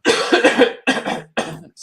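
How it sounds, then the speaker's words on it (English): A run of harsh coughs in three bursts, the first long and rough, followed by two shorter fits, loud and close. "sorry about my coughing."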